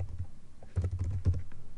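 Computer keyboard typing while coding, a handful of soft key clicks in a quick irregular run, close but quiet over a faint background hum.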